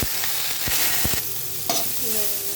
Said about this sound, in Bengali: সবজিগুলো ভাজি